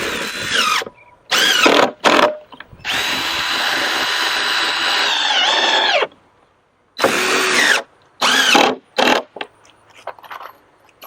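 A power drill drives screws into a wooden barn owl nest box in a series of loud, close whirring bursts, one sustained run of several seconds, separated by brief silences and clinks of handling.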